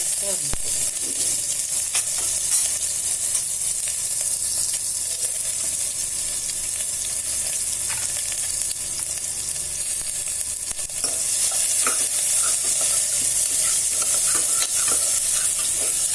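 Finely chopped onion sautés with asafoetida and curry leaves in a pan for Karnataka-style khichdi, a dense continuous sizzle and hiss with occasional stirring scrapes, close and steady throughout.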